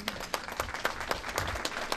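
An audience at a school district board meeting applauds, a brief burst of scattered hand claps close by with a dense, even texture for two seconds.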